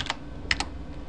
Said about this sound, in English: So look, you see I'm typing.